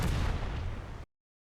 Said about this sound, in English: We've also fixed propane tanks and other explosive items not exploding properly after taking damage.